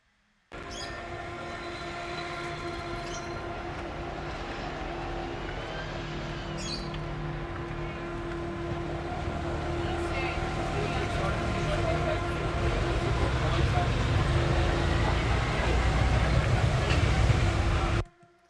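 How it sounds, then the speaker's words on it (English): Dense city atmosphere of Lisbon with a steady rumbling bed of traffic and rail-like noise, faint high squeals and clatters over it, building slightly louder before cutting off abruptly. "So we can now have a full atmosphere of Lisbon"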